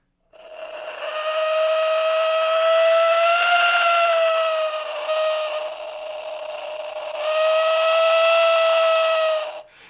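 A steady, airy whistle from a clay whistle blown open, held in two long blasts with a brief dip between, its pitch nearly constant; loud, close, and without any voices.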